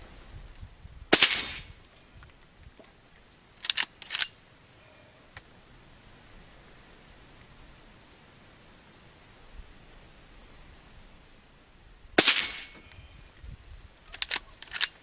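A Henry Silver Eagle .22 carbine fires at a hanging target outdoors: a handful of sharp, fairly quiet cracks, two close together, another pair, then long quiet gaps before the final shots.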